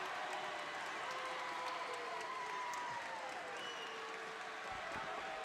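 A packed crowd at a high school wrestling match roars and applauds in a steady, dense wash of noise that stays fairly distant and even throughout, with no single voice standing out.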